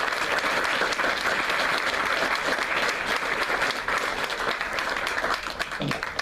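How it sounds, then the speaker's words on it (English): A large audience at a prom night safety event gives a sustained round of applause, dense and even clapping throughout before tapering slightly at the end. "How about a round of applause for the people that acted in that?"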